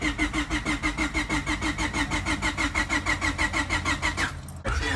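A Honda D15B engine cranks over on the starter with distributor and fuel pump disabled, a fast, even rhythmic chugging that never catches, then stops abruptly near the end.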